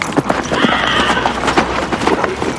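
Horse hooves clip-clopping at a steady walking rhythm, fairly close and loud, with an occasional whinny-like tone over a constant outdoor background.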